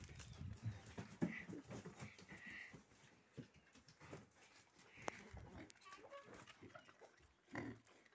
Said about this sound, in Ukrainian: Ось їх свинка.